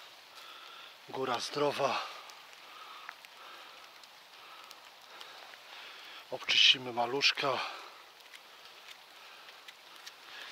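Rain falls steadily in a forest during a September porcini mushroom-picking outing, a soft continuous hiss beneath two short bursts of someone speaking close by.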